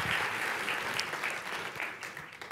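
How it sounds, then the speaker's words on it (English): Church congregation applauding during a service, a continuous wash of clapping, moderately loud and unbroken for a few seconds. "While we're clapping"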